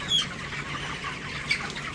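Broiler chickens at 27 days old in a farm shed, with soft clucks and brief squawks from the flock over a low steady background hum, close by and without talk.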